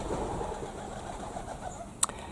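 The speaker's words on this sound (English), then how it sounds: "Listen to all the pigeons are coming home to roost." Pigeons coming home to roost in a cottage garden in the early evening, soft low cooing under a quiet outdoor hum, with one brief sharp sound near the end.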